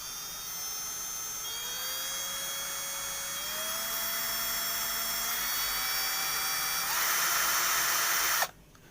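A Bonya cordless drill whines continuously at speed, its motor pitch climbing in steps as the trigger is squeezed harder, then cutting off abruptly near the end.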